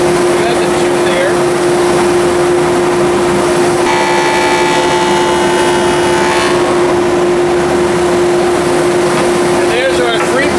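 A woodworking molding machine with dust collection cuts fluted walnut molding, giving a loud, constant roar with a steady whine, rising into a harsher cutting sound for a few seconds midway before settling back.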